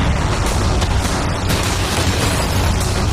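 Cannons fire at a yacht during an outdoor challenge, a loud dense roar of blasts and bursts that runs continuously without a break, close and overwhelming.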